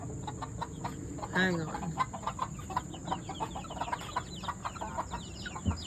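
Backyard chickens cluck and peep in a steady run of short calls at close range, with a rooster-like call near the start and a brief spoken voice partway through.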